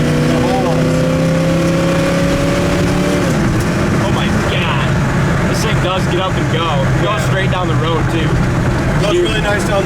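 A 1968 Chevrolet C10 pickup on the road, a continuous loud engine drone with audible gear-change pitch shifts, running under ongoing conversation from people riding inside.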